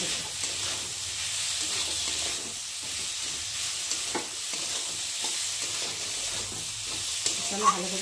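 Spice paste sizzles and hisses in hot oil while being stirred with potatoes, with occasional scraping clinks of a utensil against the pan.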